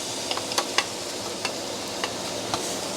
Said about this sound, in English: then just fry up the garlic too, so it creates that aroma